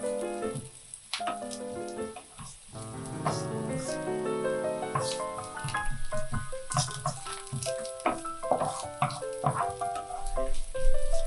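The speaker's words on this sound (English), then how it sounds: "Once the garlic is in the pan, you want to spread them out and make sure they are all lying flat in the pan." Garlic spread flat in oil in a pan while cooking enoki pancakes, giving a steady close crackle and sizzle with dense popping spatters throughout, no talk.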